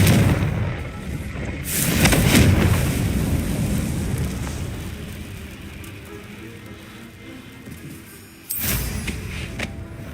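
A Confringo fire spell blast in the Hogwarts Legacy video game bursts out as a loud, booming explosion with a rumbling tail, followed by a second sharp blast near the end; no voices are heard.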